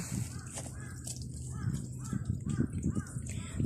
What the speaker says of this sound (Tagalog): Dahil may uwak.